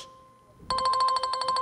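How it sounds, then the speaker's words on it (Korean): A telephone ringing with a steady electronic ringtone, loud, repeating rapid pulses starting after a brief quiet moment in a musical stage scene. "저기 한국에서 전화가 와서요."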